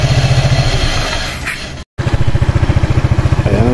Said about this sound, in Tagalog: So maandar na ang stable yung PCX.